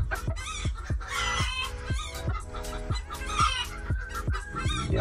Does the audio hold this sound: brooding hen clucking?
yes